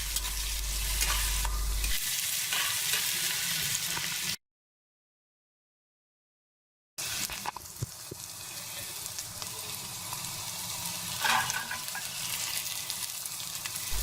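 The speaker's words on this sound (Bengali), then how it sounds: "এ পর্যায়ে দিয়ে দিচ্ছি কয়েক টুকরো কাঁচামরিচ" Green chilies and loitta dried fish frying in a pan, a steady moderate sizzle with stirring scrapes, broken by a few seconds of silence before the frying resumes.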